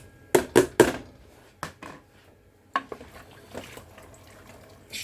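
Chickpeas dropped into an aluminium pressure cooker, a few sharp metallic clatters and splashes close up, followed by softer scraping knocks and quiet gaps.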